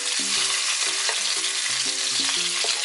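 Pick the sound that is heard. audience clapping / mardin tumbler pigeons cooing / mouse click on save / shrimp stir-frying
shrimp stir-frying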